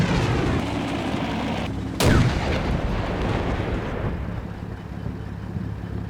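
A distant explosion in the Combat Mission Black Sea war game. A single sharp boom lands about two seconds in over continuous low battle rumble, then the rumble carries on steadily without any talk.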